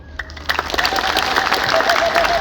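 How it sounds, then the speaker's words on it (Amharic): A church congregation breaks into applause, the clapping building from scattered claps into a dense, fairly loud burst that continues steadily with a faint murmur of voices underneath. "አጨብጭቡልኝ።"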